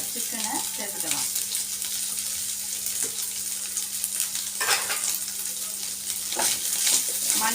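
Shredded boiled chicken, salted and cooked, stir-frying in a hot pan, with a steady broad sizzle and several scraping stirs of the spatula, fairly loud and close, with no talking.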